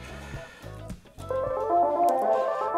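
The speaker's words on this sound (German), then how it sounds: "Da habe ich die Melodica hier gesampelt und die Boomwhackers" A song built from sampled melodica and boomwhackers, colourful plastic tubes, played on a keyboard: a brief choppy start, then a sustained, loud, reedy melodic line with layered tones.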